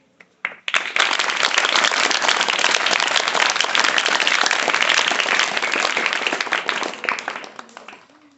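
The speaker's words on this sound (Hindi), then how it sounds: "और इसकी शुरुआत करने से पहले एक छोटी सी ताली।" Students or listeners at a lesson about the solar system burst into loud, dense clapping that starts abruptly, holds steady for about seven seconds, then tapers off.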